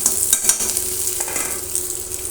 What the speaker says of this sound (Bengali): এখানে পেঁয়াজ আর রসুনটা ভালো করে ভেজে নেব